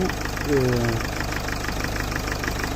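Car engine idling during a hydraulic lifter cleaning treatment for a tapping engine, a steady close rumble with a faint regular ticking, briefly joined by a short tonal whine.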